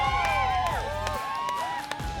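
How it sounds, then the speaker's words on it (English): Crowd cheering in the stands at the finals of the compound event at the 2021 Hyundai World Archery Championships in Yankton, sustained whoops and shouts with some clapping, moderately distant. "you hear the people cheering"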